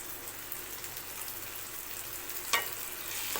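Tomatoes seasoned with salt and turmeric sauté in a pan for prawn thokku, giving a soft, steady sizzle with a brief stirring scrape near the end.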